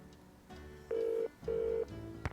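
A telephone in a Nancy Drew mystery game set in Blackmoor Manor rings twice, in two short, clear electronic tones heard close up over a quiet hum.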